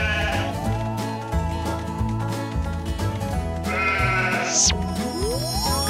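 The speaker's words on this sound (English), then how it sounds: "Bring these sheep to me" Sheep bleat over busy cartoon music in a farm scene, the calls mixed in with melodic backing and effects rather than standing alone.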